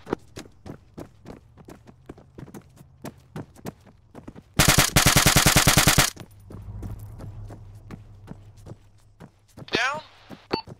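Video game gunfire in a war setting in Syria: single shots crack at a steady rhythm, then a loud sustained burst of rapid automatic fire, with footsteps and a voice shouting near the end.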